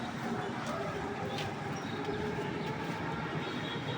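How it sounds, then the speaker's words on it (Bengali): A train rolls past near a factory, giving a continuous rumbling clatter at moderate distance that holds steady for the whole stretch, with faint background sounds around it. "ট্রেন দেখি।"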